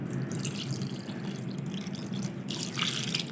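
Water poured over grated raw potatoes in a bowl, a soft steady trickle and splash heard close up with a brief louder gush toward the end, no talking.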